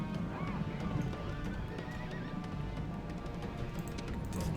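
Horses in Rome: Total War neigh and whinny over galloping clip-clop hooves, a busy battlefield din of several mounts close by, steady and loud throughout with no voices.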